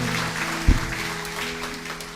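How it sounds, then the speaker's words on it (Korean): A church congregation claps during a service, a modest, fairly even patter of hands over a steady low organ-like drone, with one heavier thump partway through. "서로에게 사랑과 축복의 박수 하겠습니다."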